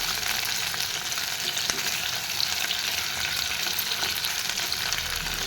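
Boiled potatoes fry in hot oil with cumin, mustard seeds, dried chili and bay leaf, giving a steady, dense crackling sizzle that holds evenly throughout with no talking.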